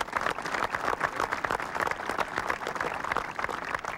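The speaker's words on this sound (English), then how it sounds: "Let's give all the spectators a round of applause." Spectators at a golf event applauding outdoors, a dense, steady round of clapping from a sizable crowd that continues evenly throughout.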